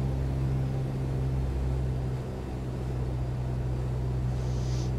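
A light training aircraft's piston engine drones steadily in flight at a slightly reduced RPM during slow-flight practice, a loud continuous low hum with heavy cabin rumble and no talking.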